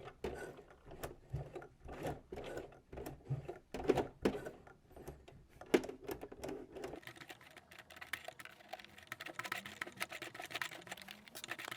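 A sewing machine stitches a denim workwear jacket, first in short bursts of rapid needle clatter, then in a steadier continuous run, close and fairly loud.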